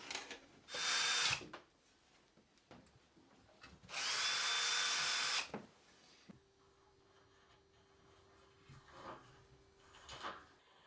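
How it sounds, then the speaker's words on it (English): A power drill boring pilot holes into a wall for radiator brackets, two loud bursts of a few seconds each, followed by quieter handling clatter and a faint steady hum. "Drill and plug pilot holes, then replace and fix both brackets."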